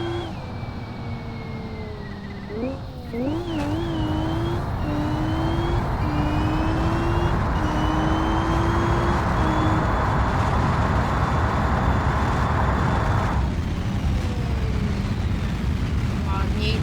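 A BMW in BeamNG.drive launches off a ski-jump ramp, its engine revving steadily with a rising, wavering whine over a constant rush of wind noise that continues through the flight.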